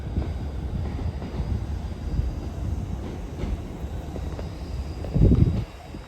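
Class 156 diesel train 156283 pulling out of Newcastle station toward Morpeth, a steady rumbling engine and wheel noise that swells into a louder surge near the end, with no talking.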